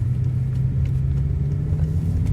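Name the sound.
BMW S85 V10 car with DCT swap driving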